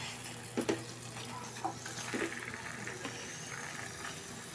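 Prawns stir-fried with a ground masala paste in a pan, a soft steady sizzle with a few louder scraping stir strokes near the start and middle, no voices.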